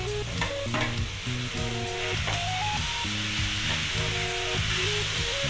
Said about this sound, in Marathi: चांगला परतवून घ्यायचा आपण, नाही तर मग ते काय कांदा कच्चा लागतो ना, चांगला परतवून घ्यायचा।